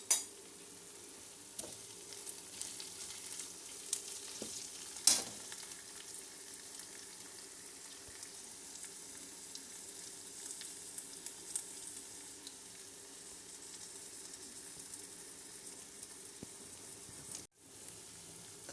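Ginger garlic paste and onions fry in a pan for a paneer curry, giving a steady quiet sizzle throughout with a few sharp clinks of a utensil near the start and no talking.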